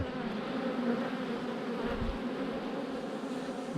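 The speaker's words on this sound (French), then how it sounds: "ça dégueule d'abeilles, ça va pas tarder à monter" A steady, dense buzzing hum of many honey bees of a Caucasian queen's colony swarming close by over a hive frame, continuous throughout.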